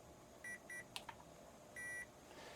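The electronic speed controller and radio of a Redcat Danchee Ridge Rock RC crawler give a few short electronic beeps and tones on power-up, quiet and close, with soft handling clicks between them.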